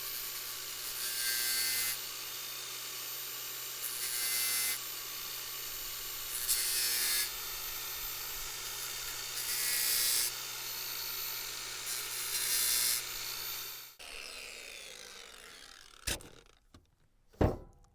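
A grinder fitted with a fresh, aggressive 50-grit disc sharpens a saw chain in repeated bursts of gritty, rasping whine, then stops, leaving a few sharp knocks and clatters near the end.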